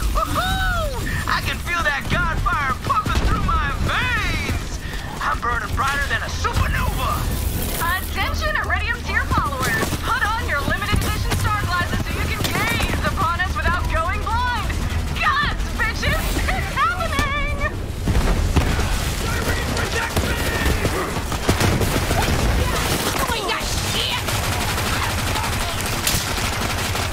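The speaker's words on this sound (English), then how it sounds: "I can feel that gunfire pumping through my veins!" Borderlands 3 combat: dense, rapid gunfire crackles almost nonstop, with a frag grenade blast and other booms, while wobbling weapon and effect tones and in-game voices mix through the continuous loud battle din.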